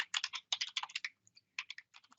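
Rapid clicking keystrokes on a computer keyboard, two quick bursts of typing with a short pause between, close and clear with no talk.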